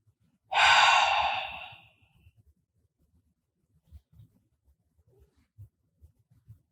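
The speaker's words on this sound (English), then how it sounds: "Can you show me how you take a breath?" A person takes one deep, calming breath, a loud, long exhale of about a second and a half, followed by quiet with only faint soft breathing and small background noises.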